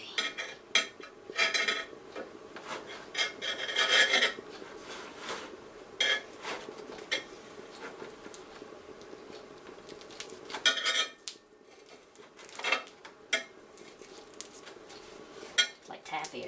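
Metal scrapes and clinks against a pan as melted HDPE plastic from milk jugs, fresh out of the oven, is pried and pulled off its surface, with irregular scratchy strokes and occasional clatter at close range.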